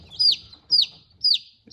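A newly hatched chick, two days old, peeps four times in an even rhythm, each call a sharp, high descending cheep, close and clear against a quiet background.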